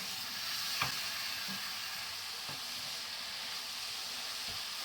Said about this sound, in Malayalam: ഏലക്കാപ്പൊടി ഇട്ടിട്ട് ഒന്ന് ഇളക്കിയിട്ട് അപ്പോഴേ ഫ്ലെയിം അങ്ങ് ഓഫ് ചെയ്യാം.